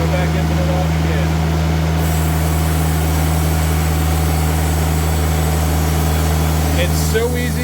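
A Timberking sawmill drones steadily while its head saw runs through a white cedar log, a loud, constant mechanical hum with a brief clatter near the end.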